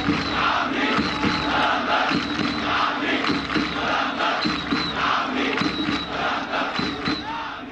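A large crowd of Al Ahly football fans chants and roars together in a stadium in rhythmic waves, loud and continuous, with shouted calls rising over the dense mass of voices.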